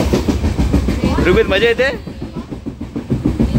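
A passenger train on the Sawantwadi route, heading toward Ratnagiri in Konkan, rumbles loudly as it comes out of a tunnel, a continuous rolling clatter with a short burst of speech over it.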